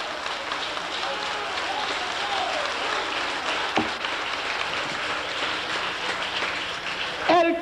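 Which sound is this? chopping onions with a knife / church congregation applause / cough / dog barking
church congregation applause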